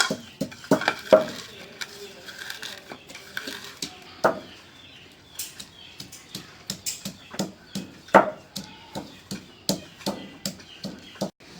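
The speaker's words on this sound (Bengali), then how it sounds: "মরিচ তেলে ভাইজা মশমশা করে নিয়ে এই যে গুঁড়ো করে নিতেছি" Dried chillies, fried crisp in oil, being crushed into powder by hand, giving a run of sharp, irregular knocks and scraping crunches at close range, fairly loud with brief pauses and no talk.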